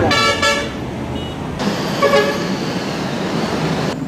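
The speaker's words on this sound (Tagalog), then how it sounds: "Kaliwat kanan, may bumubusina." Car horns honk several times over a steady wash of city traffic noise, short toots sounding amid the rumble of passing vehicles.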